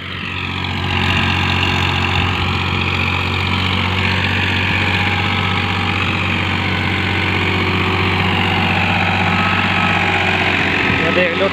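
A Farmtrac Champion tractor's diesel engine idles loudly and steadily after starting up, a heavy low drone with a continuous hum, heard close and unchanging for several seconds.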